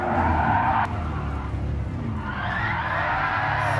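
Tires squealing as a car drifts in Gran Turismo Sport, a continuous loud screech over engine roar that briefly drops off, then builds again.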